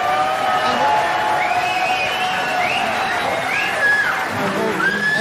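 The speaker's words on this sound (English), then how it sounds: "Well, they all started cheering" A large crowd at an arm wrestling match cheers and whoops continuously, a loud, dense roar of voices with rising shouts and a commentator talking over it.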